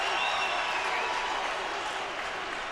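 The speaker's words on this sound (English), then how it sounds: "Crowd is back into it." A stadium crowd at a Packers vs. Bears NFL football game roars loudly and continuously, a dense wash of cheering noise that eases only slightly over a few seconds.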